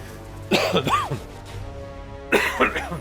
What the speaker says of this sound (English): Apologies if I'm coughing.